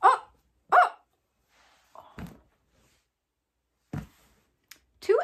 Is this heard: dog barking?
yes